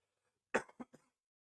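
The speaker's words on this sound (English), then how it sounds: "Excuse me, I have to cough." A single close, dry cough in a short burst of three quick hacks, then silence.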